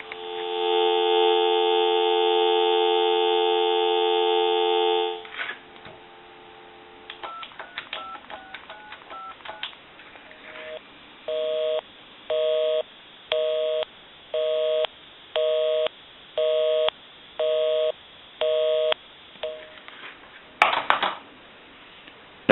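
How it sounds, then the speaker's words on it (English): A Cortelco 2554 wall telephone gives a steady dial tone for about five seconds, then a run of dialed tones, followed by an evenly pulsing busy signal and a final clatter of the handset. "We'll give you some dial tone."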